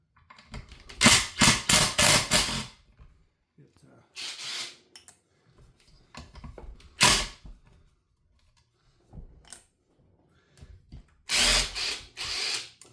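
An old McCulloch Mac 1010 chainsaw fired up and run in bursts, loud close buzzing revs broken by gaps and idle lulls, cutting in and out over roughly a dozen seconds.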